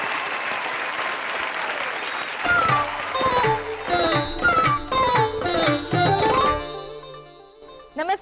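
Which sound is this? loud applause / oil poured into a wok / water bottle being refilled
loud applause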